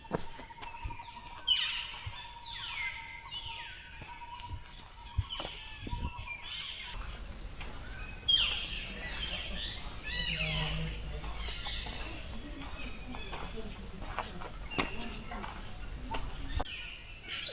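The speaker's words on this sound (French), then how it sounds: "Les oiseaux qui chantent." Birds sing and chirp among the trees at an Angkor temple, with many small calls overlapping at a moderate distance over a steady outdoor hum and occasional rustling.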